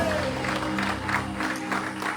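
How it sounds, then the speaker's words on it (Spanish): Church congregation applauding during a Spanish-language service, dense clapping mixed with cheering voices and a sustained tone underneath, continuous through the short clip. "¿Cuánto le pueden dar esa ofrenda y aplauso al Señor?"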